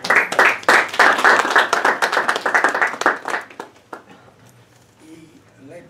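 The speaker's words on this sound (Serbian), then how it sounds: "I lep je bio ovaj aplauz" Audience at a literary festival in Serbia clapping in a dense, loud burst that carries on for about three and a half seconds, then dies away quickly into a quiet room with a few faint scattered sounds.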